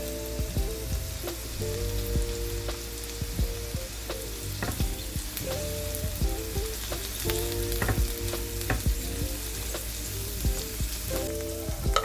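Peas saute in a pan with bulgur nearby, giving a continuous soft sizzle of frying broken by repeated scraping and stirring clatters at an irregular pace, close up and without any voices.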